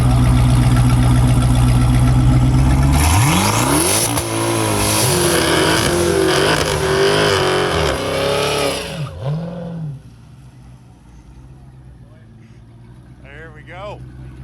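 A Dodge Charger Hellcat roars through a burnout, loud and close. Engine howls and revs rise and fall for several seconds, then the noise cuts down to a lower rumble, and people talk around it.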